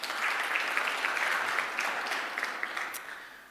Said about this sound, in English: Round of applause to you as well.